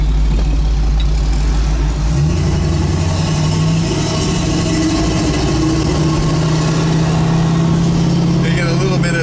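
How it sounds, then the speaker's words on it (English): Exhaust note of a 1965 Ford Mustang Fastback, a steady low rumble running throughout, close and fairly loud, with a brief shift in pitch early on as the car drives past a truck. "You get a little bit of the exhaust moving around against that truck and it sounds so cool."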